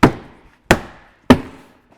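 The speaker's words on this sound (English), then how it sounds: "just knock all the clips that hold the panels back into place" Three sharp knocks, evenly spaced about two-thirds of a second apart, as door panel clips are tapped back into place on a Toyota Land Cruiser door; close and fairly loud with no talking.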